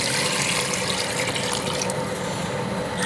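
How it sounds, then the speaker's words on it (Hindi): Water pours steadily into a cooking pot for beef yakhni, a continuous splashing gush at close range that keeps going for the full few seconds. "इसके अंदर पानी ऐड करेंगे"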